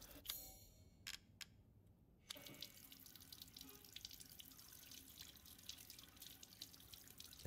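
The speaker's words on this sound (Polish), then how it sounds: "Woda se leci, okej." A tap in the Resident Evil Village video game runs and drips. After a few sharp clicks early on, a steady, faint trickle of water continues to the end.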